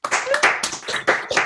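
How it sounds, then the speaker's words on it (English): A small group claps briefly at the end of an online talk, giving a few seconds of uneven, scattered hand claps. "we'll give Ryan another round of applause"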